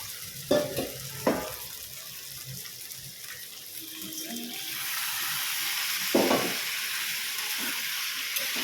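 Spice masala with tomato sauce stir-fried in a pan, a steady sizzle that swells louder halfway through, broken by a few sharp scraping clinks of the spoon.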